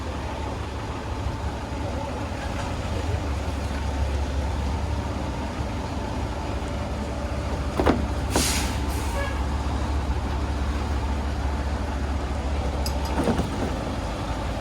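A large truck rumbles steadily as it idles and edges past on a tight, narrow road in a small Nicaraguan farming town. Short air-brake hisses break through the constant engine drone, with faint voices in the background.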